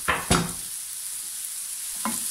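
Mushroom and potato tortilla sizzles steadily in a frying pan while a utensil scrapes and stirs in a few short close strokes, with a continuous soft hiss of frying beneath.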